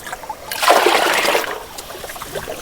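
Clear water trickles and splashes from a single collection pipe at a hilltop campsite in the rain, a close burst of pouring that swells for about a second and then settles into a softer dribble.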